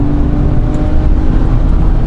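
A BMW 535 GT accelerating hard to pass on the road, a loud, dense engine and road roar that holds steady throughout from inside the car, with no talking.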